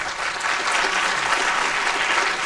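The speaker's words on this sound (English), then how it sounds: "Could we give him a second round of applause?" An auditorium audience at a conference gives a presenter a second round of applause, with dense, loud, continuous clapping from many hands throughout.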